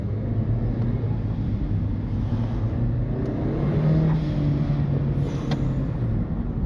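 A turbocharged Honda Civic R18 drives along, its engine a steady low drone with gentle rises in pitch as it pulls, heard from inside the cabin at moderate volume.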